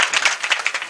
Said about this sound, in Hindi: एक बार जोरदार तालियां बजाएं आप